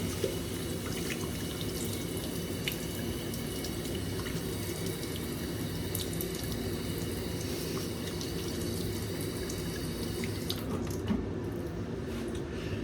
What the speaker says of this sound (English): let me rinse my hands and we'll start shaving